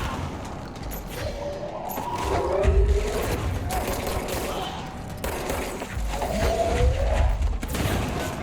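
Enemy shotgun fire in the video game Control booms in heavy bursts over a dense mix of game noise and mechanical clatter, with two louder surges of gunfire close by.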